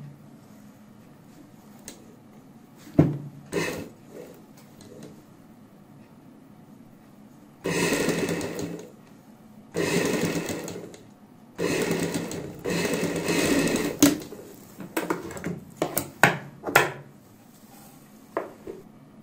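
An electric sewing machine stitching piping onto a designer blouse back, running in several short whirring bursts of a few seconds each, separated by quiet pauses and scattered light clicks of fabric handling.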